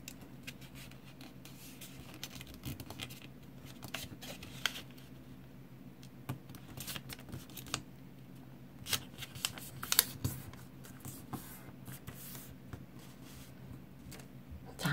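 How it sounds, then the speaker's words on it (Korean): Colored paper being folded for an origami carrot: soft rustling and crinkling with scattered crisp creases and taps, close and quiet, with no talking. "그리고 위쪽도 이렇게 반을 접어줄게요."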